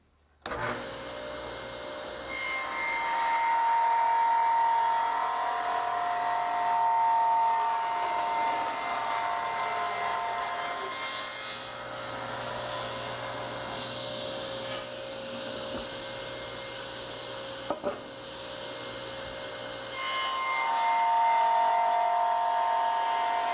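A saw cutting the corner off a wooden log, heard as a sustained, close whining buzz with a steady tone that dips and resumes across the cut, including a couple of sharp knocks, with no talking.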